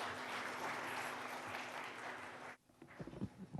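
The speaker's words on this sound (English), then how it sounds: "Can we have a warm round of applause" Audience applause at a stage event welcoming India's ministers Anurag Thakur and Kiren Rijiju, a steady wash of clapping for over two seconds that cuts off sharply and gives way to quieter scattered sounds.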